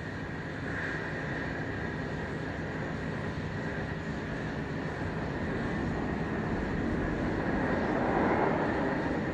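KC-135 tanker aircraft engines give a steady, loud roar with a droning hum that swells slightly toward the end.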